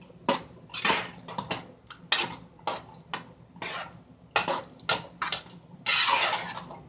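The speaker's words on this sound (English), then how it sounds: "stirring it." Alfredo sauce stirred in a pot for shrimp, chicken and crab fettuccine, with repeated scraping and clinking of a utensil against the pot in irregular bursts, close and alone.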